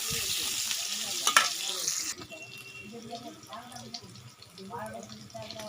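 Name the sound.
chopped onion frying and being stirred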